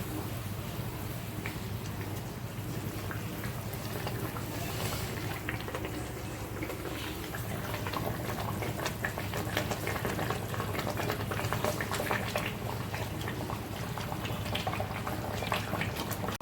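A pot of pomfret fish curry bubbles on a high flame, a steady close simmering hiss with faint clinks and stirring noises and no talking.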